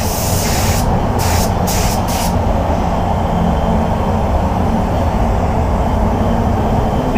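Spray gun laying clear coat onto a Lexus RX 350 quarter panel, a loud steady hiss running the whole time with a few brief breaks in the spray near the start.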